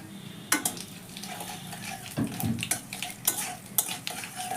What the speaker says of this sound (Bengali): তেল দেওয়ার পরে এবার আমি ফোড়ন দেব কালো জিরে আর শুকনো লঙ্কা।